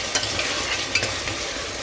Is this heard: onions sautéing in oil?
yes